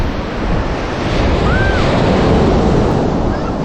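Waves roll onto Mypadu beach near Nellore in a loud continuous surf roar, heavily mixed with gusty wind buffeting the microphone.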